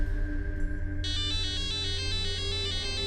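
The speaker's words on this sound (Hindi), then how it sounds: "ये कौन फोन कर रहा है?" A phone ringtone sounds for an incoming call, a bright repeating electronic melody that begins after a moment over a low steady background hum.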